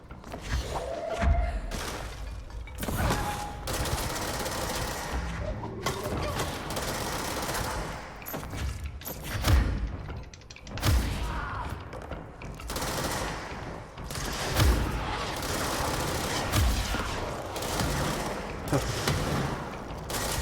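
Rocket fire and explosions from sniper enemies in the video game Control, with repeated heavy thumps and blasts at irregular intervals over a dense, busy combat soundscape.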